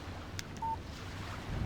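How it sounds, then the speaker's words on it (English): A short, faint electronic beep plays as a phone text message alert in the video game Alan Wake, heard once over a soft windy ambience with no voices. "Text message from Barry."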